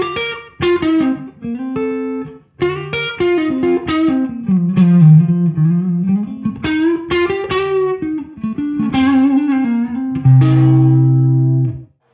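A clean-toned electric guitar with slapback echo plays a melodic passage of picked notes and chords, each attack followed by a quick short repeat, ending on a held chord, loud and close with no talking.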